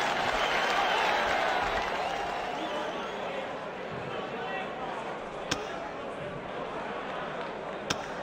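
Darts crowd at the PDC World Matchplay applauding a checkout: a dense, sustained wash of clapping and cheering that swells early then holds steady, with a couple of sharp knocks near the end and a commentator's voice mixed in.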